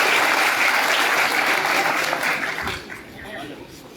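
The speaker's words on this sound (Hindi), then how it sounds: "लगातार एक बार तालियां बजती रहेगी।" Loud audience applause at a live ceremony in a Dharamshala hall in Mahendergarh, a dense steady clapping that fades toward the end.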